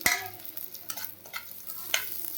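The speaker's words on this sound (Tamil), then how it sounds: "வெங்காயம் நல்லா வதங்கணும்" Onions sauté in a pan for an okra rice dish, a low sizzle broken by a few sharp spoon scrapes and stirring clicks.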